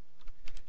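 Brief burst of typing on a computer keyboard, a handful of quick, light key clicks close to the microphone, no voice.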